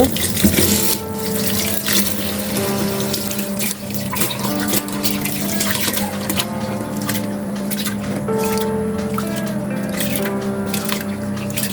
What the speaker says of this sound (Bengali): চাল দিয়ে ডাউল দিয়ে একসাথে ধুয়ে নেব